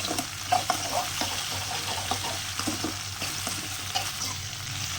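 Okra sautés in hot oil for a tamarind curry, with a continuous sizzle and repeated soft spatula strokes scraping through the pan, close and moderately loud.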